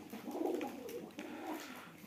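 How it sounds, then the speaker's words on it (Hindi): A female pigeon coos softly, giving low, murmuring repeated coos close by over quiet background noise. "बहुत प्यारी कबूतरी जी।"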